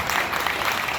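A crowd at the 55th commemoration of Bloody Sunday claps loudly and continuously: a short, dense burst of many hands with no voices over it.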